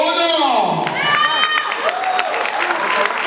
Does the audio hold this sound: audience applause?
yes